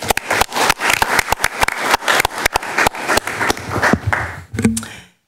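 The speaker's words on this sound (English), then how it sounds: "A round of applause, please." A small group in a school district board meeting room gives a round of applause: scattered, irregular individual claps, fairly close and clear, that thin out and stop with a final few claps.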